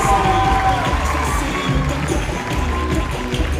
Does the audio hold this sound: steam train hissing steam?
no